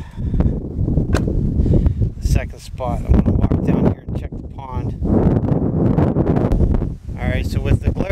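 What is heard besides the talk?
wind blowing into the microphone outdoors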